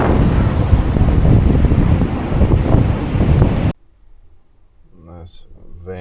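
Strong wind on a Maui beach buffets the microphone in a loud, roaring rush for several seconds, then cuts off abruptly to near quiet with faint sounds after.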